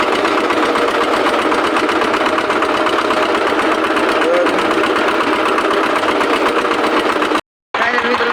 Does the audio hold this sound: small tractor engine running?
yes